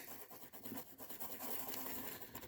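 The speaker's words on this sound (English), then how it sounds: "Just clean this with a brush and a bit of alcohol." An old toothbrush wet with alcohol scrubs a small desoldered SMD chip clean, a close, steady, dense bristly rasping that runs without a break.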